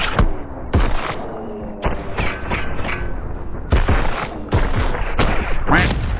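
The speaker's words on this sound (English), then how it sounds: "I'm hitting him, hitting him, hitting him, hitting him. No one dies. What? I'm shooting them all" Rapid bursts of gunfire from the Call of Duty: Black Ops 6 video game, loud and dense, with repeated volleys and thudding impacts over a constant busy battle backdrop.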